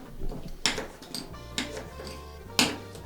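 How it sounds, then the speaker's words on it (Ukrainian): A knife striking a cutting board as onion is chopped very finely for Ukrainian cabbage rolls with pancakes: a few sharp, uneven knocks against a low background hum, close and fairly loud, with no talk. "Можете порізати цибульку."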